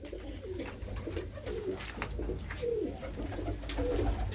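Blue pigeons coo repeatedly in a loft with nesting boxes, several soft, rounded calls close by over a low, rumbling background, with no talking.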